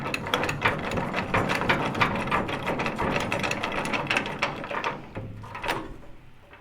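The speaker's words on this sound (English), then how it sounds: "hold it tight and then just crank in with your wrench" Fast, steady ratchet wrench clicking while tightening a tailgate bolt on a classic Chevy C10 pickup, close and loud, a continuous rapid pawl chatter that slows and thins out near the end.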